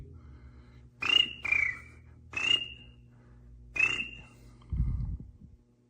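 Four short, sharp cricket-like chirps, unevenly spaced, sound over a faint low hum; a voice seems to be imitating the cricket.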